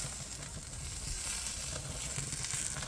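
Steak fat searing in a hot pan, a steady close hiss and crackle of sizzling that runs unbroken and fairly even in loudness, with no voices.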